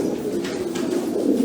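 A pigeon coos in a low, steady, rolling murmur, close and continuous through the short stretch, with faint background noise.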